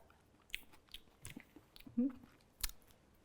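Someone tastes a festive winter salad, with soft, close chewing and a few crisp bites spread over a quiet room. A sharper crunch stands out near the end.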